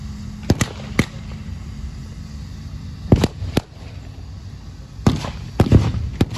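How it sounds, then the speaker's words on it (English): Artillery explosions at a WW2 tank battle reenactment at Tankfest 2024: several sharp, loud booms in scattered bursts, some doubled, with low rumbling background between blasts. "There's still some artillery coming in, but it's not going to save this position"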